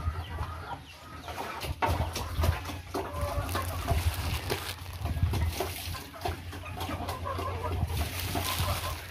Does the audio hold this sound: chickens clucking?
yes